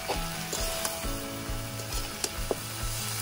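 Ginger-chili paste fries in a pan over a wood fire, a close crackling sizzle punctuated by sharp spatula taps and scrapes, with a low rumbling fire beneath.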